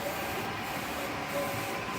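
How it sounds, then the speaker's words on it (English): A 30cm DTF printer with its heat finishing unit from Orderly MyColor runs steadily, a dense continuous mechanical whir and rubbing hum, close and even throughout with no voices. "So that's the 30cm DTF printer and heat finishing unit from Orderly MyColor."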